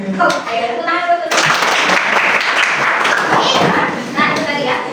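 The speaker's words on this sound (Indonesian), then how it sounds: "Ayo, tepuk tangan dulu." A group claps hands together during a movement exercise session, the clapping loud and sustained for several seconds with voices talking over it.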